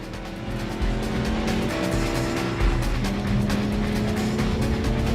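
A car accelerates hard during a street race, its engine roaring loud and close throughout, with a brief surge partway and tire noise under the sustained drone.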